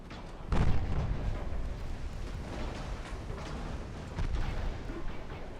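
Naval gunfire in Ultimate Admiral: Dreadnoughts, a heavy boom that opens into a long rumbling roar, followed by further distant thuds and a second swell of blasts near the end.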